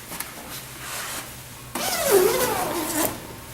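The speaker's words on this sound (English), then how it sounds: "and then open the backrest zipper." A backrest zipper on a Human Touch Gravis massage chair is pulled open in one sustained, fairly close rasping run lasting under two seconds, after a short stretch of quiet handling.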